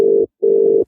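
A telephone tone sounds right after a call is hung up: two loud steady beeps of equal pitch separated by a brief gap, with nothing else heard.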